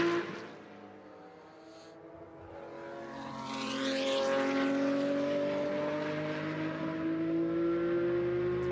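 BMW M1 Procar race car on its final laps at the Red Bull Ring, engine note rising in pitch as it accelerates toward the finish, loud and sustained with a second car faintly audible behind.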